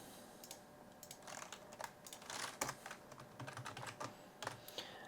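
Rapid, uneven keystrokes on a computer keyboard while an Excel formula is entered, close and fairly quiet, with no talking.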